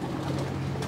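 Pigeons coo continuously, soft and low, close by.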